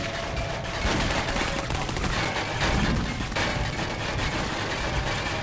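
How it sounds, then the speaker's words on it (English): Gunfire in the video game Clive Barker's Jericho, dense overlapping bursts of automatic shots in a sustained barrage, loud and continuous with faint speech underneath. "everybody's able to just keep shooting him relentlessly"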